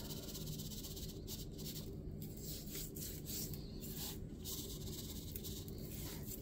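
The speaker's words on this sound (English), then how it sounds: "So we're just going to evenly distribute this bacon cure. We're going to rub it in." Hands rub dry bacon cure into a raw pork belly, a steady close-up scraping and rasping rustle that continues without pause.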